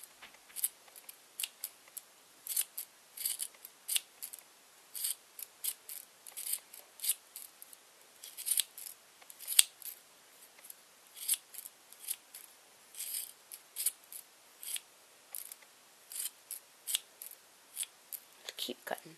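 Scissors snip yarn to trim a handmade pom pom, a long run of quick, close, crisp cuts in irregular bursts, fairly quiet with no talking.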